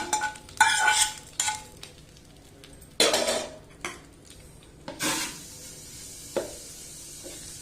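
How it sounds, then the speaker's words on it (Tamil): A spoon stirs a tempering into hotel-style coconut chutney, producing scattered scrapes and clinks against the vessel in short bursts separated by quiet gaps. "நம்ம தாளிச்சதா சட்னியில் சேர்த்துக்கோங்க சேர்த்துட்டு ஒருக்கா மிக்ஸ் பண்ணிட்டு"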